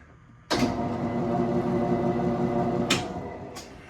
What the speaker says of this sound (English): listen to the difference between that drive motor and the other one